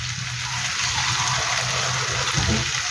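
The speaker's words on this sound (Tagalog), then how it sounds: "Lagyan lang natin ng kaunting tubig." Water pouring and splashing steadily into a pan for cooking sautéed bitter melon, a continuous close gush lasting a few seconds.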